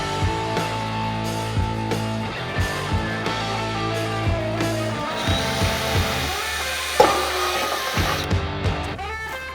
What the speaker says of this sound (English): So I drilled my holes on the bottom and the top shelf